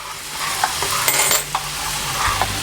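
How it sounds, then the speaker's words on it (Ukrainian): Pork cracklings sizzle and fry in a pan while a utensil stirs and scrapes, with light clinks and knocks over the steady crackle. "Поки шкварки смажаться до киплячої сметани з водою, постійно їх мішаючи"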